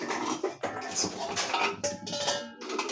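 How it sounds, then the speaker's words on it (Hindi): Metal pressure cooker lifted in a home kitchen while fallen tomatoes are gathered, giving continuous clattering and clinking of pots and utensils close by, with small knocks and scrapes and no talk. "कुकर उठाया, टमाटर गिर गए तो पहले उनको समेट ले रही हूँ।"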